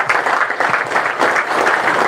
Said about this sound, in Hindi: प्रभु यीशु की ताली बजा